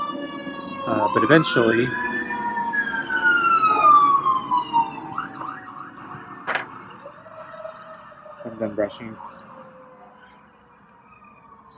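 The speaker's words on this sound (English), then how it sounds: "So let the siren go away." An emergency siren wails outside a house with a garden, its rising and falling tone sweeping past and fading into the distance while a person talks over it nearby.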